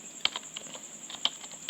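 Keystrokes on a computer keyboard while JavaScript code is typed: a few sharp, distinct clicks with softer taps in between, close and fairly quiet, with no talking.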